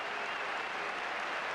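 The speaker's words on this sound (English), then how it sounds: "A generous round of applause, standing ovation for the outer" A cricket crowd applauds a batsman's innings with a steady, dense roar of clapping, heard at a distance and without pause, with no talk over it.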